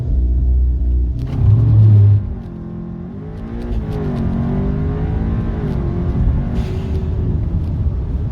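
An Audi S3 with a stage 2 tune launches hard on a wet road using launch control, engine roaring loudly with a heavy low rumble, then settling into a sustained revving drone as the car pulls away.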